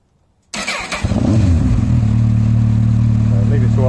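A Honda CBF1000 motorcycle engine fires up after a second of silence and settles into a steady, loud idle, close by, with no talk over it.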